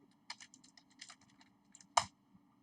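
Quick light taps on a computer keyboard, a short run of keystrokes followed by one sharper, louder press like the enter key, close and quiet with no talking.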